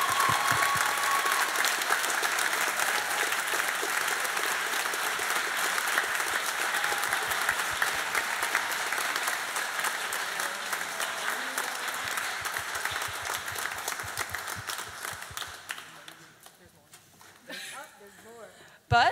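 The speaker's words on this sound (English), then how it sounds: "So let's give another big round of applause for Mrs. Walton and her 18 years." Sustained audience applause fills a high school spring band concert at Cherry Hill High School East: a loud, dense wash of many clapping hands that slowly thins and fades toward the end, with a few scattered claps left.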